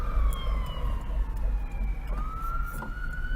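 An ambulance siren wailing through a small town, a steady falling then rising tone heard at a moderate distance over low traffic rumble.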